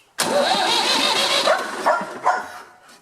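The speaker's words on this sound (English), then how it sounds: "It's a 3-cylinder Perkins engine" A 3-cylinder Perkins engine, formerly used on a pump, cranks and fires up, then runs loud and steady close by for about three seconds with a few surges in its note.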